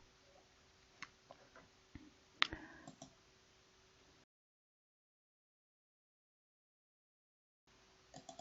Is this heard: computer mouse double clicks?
yes